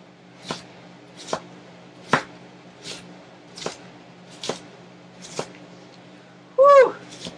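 An onion is chopped on a cutting board in a home kitchen, with evenly spaced single knife thuds roughly once per second, close and moderately loud, followed by a short vocal exclamation at the end.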